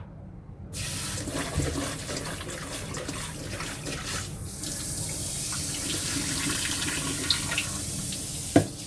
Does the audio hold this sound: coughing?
no